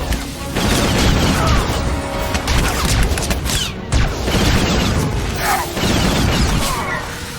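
Gunfire in a Star Wars video game battle, a loud, continuous stream of blaster shots, crashes and bursts with brief dips, dense and close throughout.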